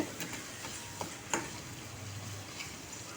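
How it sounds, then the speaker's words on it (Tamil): Chopped onions sautéing in a pan for a Tamil rice-and-lentil dish give off a faint, steady sizzle, broken by a few soft ticks and clicks from stirring. "வெங்காயம் நல்லா வதங்குது"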